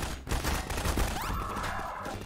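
Rapid gunfire bursts from robots shooting each other in a Gmod Five Nights at Freddy's game, loud and dense, mixed with other game sounds.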